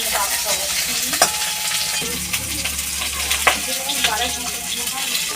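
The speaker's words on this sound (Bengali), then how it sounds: "মাছ ভাজা একটু বাকি আছে," Mrigal fish fries in hot oil in a pan, a loud, continuous close sizzle with occasional sharp spatters and stirring clinks throughout.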